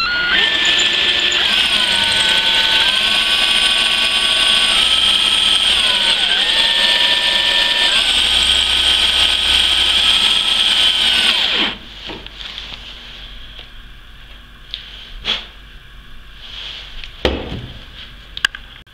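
A power drill fitted with a new bit bores into knife steel, a loud steady whine with dips in pitch as it bears down, then it cuts off abruptly and leaves faint clatter and handling noises.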